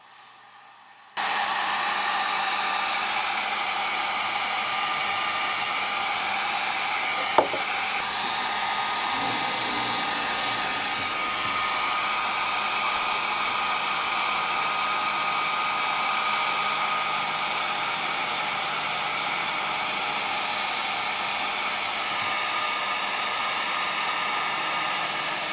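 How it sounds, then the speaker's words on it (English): A heat gun shrinks heat shrink wrap over lugs soldered onto 2 AWG wire, switching on with a click and then blowing a loud, steady, close roar of hot air for over twenty seconds, with a faint tap midway. "Then now here's the process of heat shrinking the wrap."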